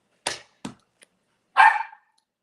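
A dog barks indoors: two short close barks, a faint yip, then one longer, louder bark, with no talking.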